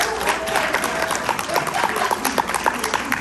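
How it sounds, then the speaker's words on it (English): Audience applause after a classroom-style presentation, steady clapping from a group held at a moderate level throughout, with a few sharper claps standing out near the end. "Give her a round of applause, y'all."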